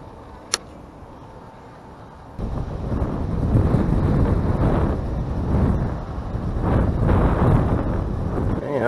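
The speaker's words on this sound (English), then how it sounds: "when it gets real windy like this" Strong gusts buffet the microphone by the water while bass fishing, a sudden deep low rumble kicking in after a quieter start and churning loudly for the rest of the clip.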